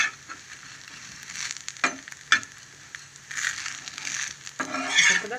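A dosa sizzles steadily on a hot pan after being flipped, with a couple of sharp scrape-like knocks from the turn and a brief louder burst of crackling near the end; no one speaks.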